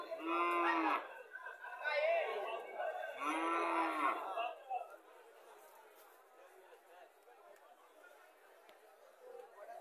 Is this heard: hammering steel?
no